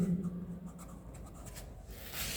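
Pen or pencil writing on paper in a notebook during a maths lesson on data handling, a steady close scratching with short strokes, alone without talk.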